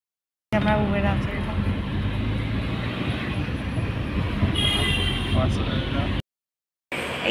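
A train at Shalimar railway station makes a loud, steady rolling rumble with a bright hiss, mixed with voices talking nearby, before cutting off briefly near the end.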